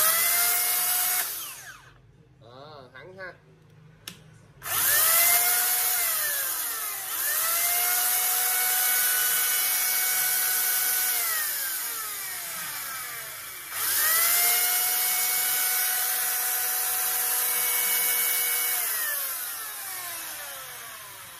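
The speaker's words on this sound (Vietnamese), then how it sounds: "Ai có sử dụng con cưa xích Makita có model là MUC350" A Makita MUC350 electric chainsaw with a 350 mm bar whirs up to speed and winds down in repeated bursts, a loud, close, high motor whine rising and falling with no talk over it.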